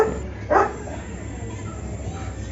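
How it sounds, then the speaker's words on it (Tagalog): A single dog bark rings out briefly near the start, followed by quiet background with faint talking. "Yung tumatahol aso yan,"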